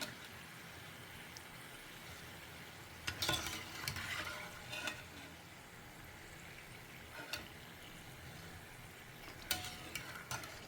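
Uppu seedai, small savoury rice-flour balls, frying in hot oil during festival snack making, with a steady soft sizzle and a few louder crackling, stirring bursts scattered through; no talking.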